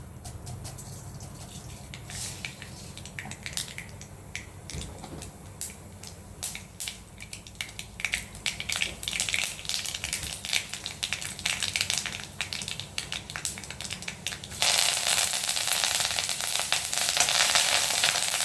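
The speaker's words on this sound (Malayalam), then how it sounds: "ഇപ്പം ഇനിയും വെളിച്ചെണ്ണ ചേർത്ത് കടു വറുക്കാം." Mustard seeds crackle and pop in sizzling hot coconut oil, the spattering steady and close, growing louder and denser toward the end.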